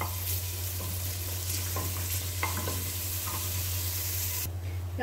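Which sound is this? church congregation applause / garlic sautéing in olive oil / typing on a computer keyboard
garlic sautéing in olive oil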